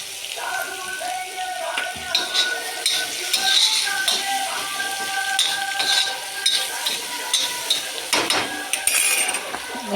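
Onion is stirred and fried in a pan, giving a loud, close, steady sizzle broken by scraping and clinking from the utensil, with a faint tonal hum underneath.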